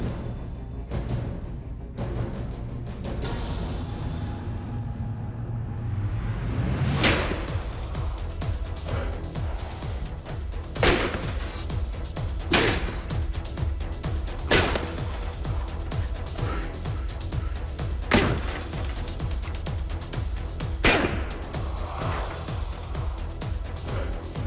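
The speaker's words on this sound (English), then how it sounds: "It's time for our strength test. The Roman armor and shield chop." A gladiator's dolabra forged for a competition strength test chopping into Roman armor and a shield, with a series of sharp, loud metallic impacts struck at irregular intervals over a steady background of ambient noise.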